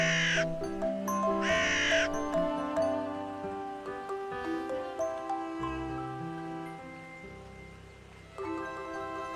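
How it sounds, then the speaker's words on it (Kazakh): A crow caws several times up close: harsh, loud calls in short bursts, with quieter croaks and cries between them. "ворона"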